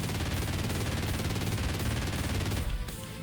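Rapid automatic gunfire from a video game gun with procedural bullets and casing ejection, a loud dense burst lasting several seconds before cutting off.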